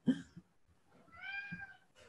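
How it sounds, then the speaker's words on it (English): A cat gives two short, close meows, a brief low one followed by a longer rising cry, heard clearly with no talk over them. "You can hear the cat saying no."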